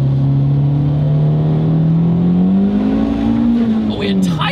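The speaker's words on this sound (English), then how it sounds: "Oh, we had tire squeal and all-wheel drive." A 400 hp big-turbo Audi TT with all-wheel drive pulls hard, its engine note rising steadily and loudly up close, ending with a short squeal of tires under acceleration.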